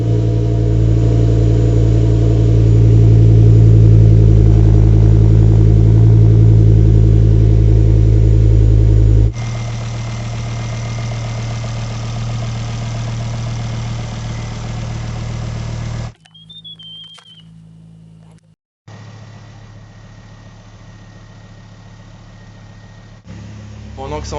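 A Ford Focus ST 225 Mk2 turbo engine idles while warming up before turbo removal, a steady loud low drone at first that drops to a quieter idle, with brief gaps and faint workshop clatter later.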